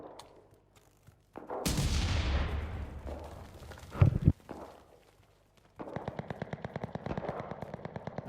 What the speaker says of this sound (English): this dude has an MG